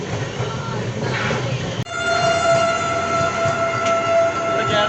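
A passenger train bound for Agra rumbles steadily, heard from inside the carriage, with a sudden jolt and then sustained tonal whining or horn-like tones over the continuous rolling noise.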